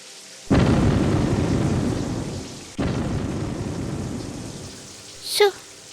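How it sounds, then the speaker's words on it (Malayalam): Cartoon thunderstorm in an animated kids' show: two loud thunder cracks, each rolling into a long rumble over heavy rain, with a brief higher sound effect near the end. "മക്കളെ മഴ കൊള്ളണ്ട"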